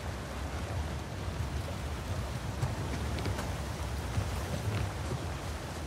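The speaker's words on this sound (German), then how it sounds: "Oh, schöner Wasserfall." Steady roaring wash of falling water from a waterfall in the video game Uncharted 4, a constant broadband rush with no talk over it.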